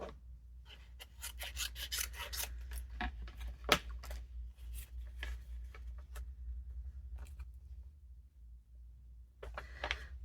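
Scissors cutting through paper for a vintage Christmas junk journal: a quiet series of short rasping snips and rustles, close and intermittent, over a low steady hum.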